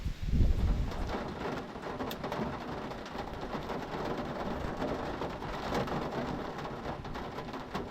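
Steady heavy rain pours down at night, a dense continuous patter with a low rumble at the start.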